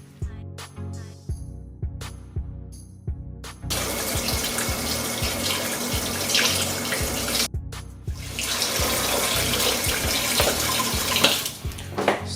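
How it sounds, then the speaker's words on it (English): A beef roast tied with cords is washed under a running kitchen tap in vinegar and water; it opens with scattered splashes, then turns into a loud, steady rush of water with handling splashes, briefly interrupted midway. "So I went in with about 3 tablespoons of that vinegar in some water, and we just want to wash this."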